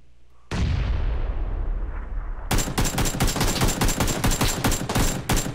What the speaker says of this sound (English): I'm gonna grenade him.